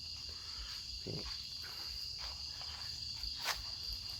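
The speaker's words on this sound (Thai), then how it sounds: "เสียงจิ้งหรีดเสียงอะไรร้องเต็มไปหมดนะครับ เสียงกบเสียงเขียดนะครับ" Crickets chirp at night outdoors among cactus pots, a steady, continuous high-pitched trill that carries on unbroken, with a few faint rustles and no talking.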